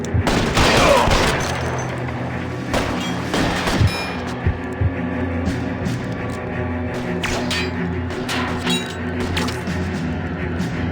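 Gunfire rattles through a shootout in the video game L.A. Noire: repeated loud bursts and single cracking shots, some close and punchy, others echoing in a dense fusillade, with little talking.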